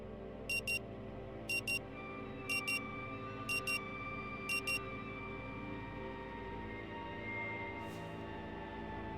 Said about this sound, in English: The frenetic sound of the alarm nudges you back to the present.